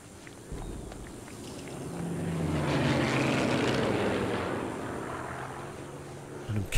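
Propeller planes fly over a rice field in the video game Sniper Elite 3, their engine drone swelling from faint to a loud peak midway and then fading again, with a sharp knock at the very end.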